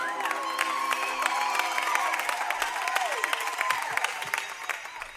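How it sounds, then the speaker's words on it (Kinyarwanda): A congregation at a praise service cries out in high, wavering, overlapping ululation, with shouting and scattered claps throughout, loud and sustained. "impundu nyinshi ku Mwana."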